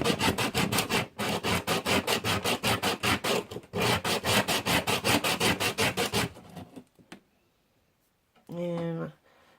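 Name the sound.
scratching the back of a rock to roughen it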